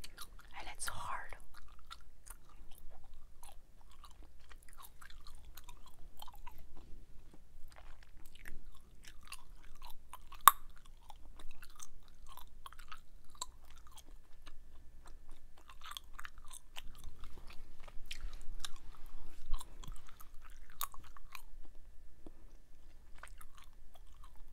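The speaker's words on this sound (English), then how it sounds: "I can tell this is going to be a good snapping gum." Trident Splash strawberry-lime gum being chewed and snapped close to the mic, with soft wet mouth sounds and a few sharp isolated pops scattered across a quiet background.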